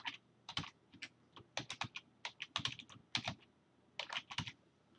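Password typed on a computer keyboard, quick irregular bursts of close, crisp key clicks with short pauses between groups, no voices.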